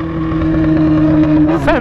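Loud, close roar of a Yamaha XJ6 motorcycle engine through its exhaust, a steady rumbling idle with a cold engine, ending in a sharp rising rev near the end.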